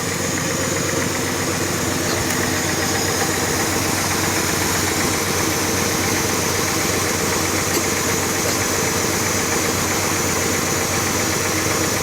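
A 1981 Ford F-350 truck engine idles continuously up close, a loud, steady rumble with a fine rapid pulsing throughout and no voices.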